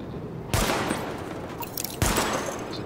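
Weapon test gunfire in the video game The Division: two dense, loud bursts of rapid automatic fire with a roaring wash of noise between them.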